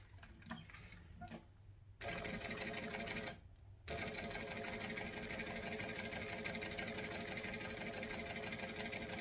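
A sewing machine top stitching a handbag, running at a steady even pace up close: a short start, a brief stop, then a long continuous whirring stretch with no voice.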